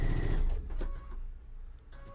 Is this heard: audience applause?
no